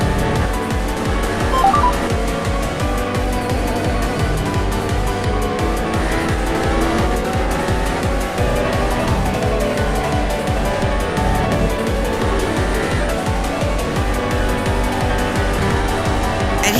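Race cars in an Ala Mobile GP racing game roar continuously at high revs, with engine whine, gear shifts and occasional tire squeal layered densely throughout, loud and steady with no pauses.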